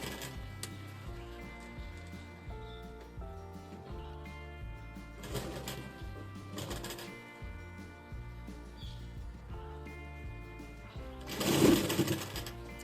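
A sewing machine stitches a blouse seam, running in a steady rhythmic whir with short pauses and restarts, fairly quiet and close, ending with a brief louder burst.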